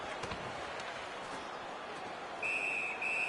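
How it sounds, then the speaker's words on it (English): A referee's whistle sounds in the NHL 19 hockey video game, two sustained shrill blasts near the end, cutting through a constant roar of arena crowd noise. "Puck covered, whistle blown."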